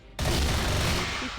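Gunfire in the Call of War shooting video game, a dense burst of rapid shots starting abruptly and rattling on continuously.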